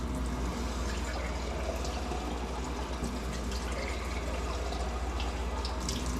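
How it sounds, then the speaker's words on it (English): Tap water runs steadily into sterilized glass canning jars, filling each about halfway for homemade salsa; a continuous close splashing wash with no talking. "So what I do is I fill them with water about halfway."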